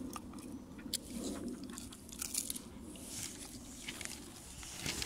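A pet crunches and chews on a raw fish head close up, a steady run of wet bites and crackling crunches with scattered sharper snaps over a low background murmur.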